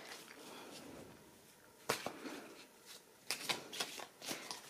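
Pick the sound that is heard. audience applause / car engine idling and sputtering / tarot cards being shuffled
tarot cards being shuffled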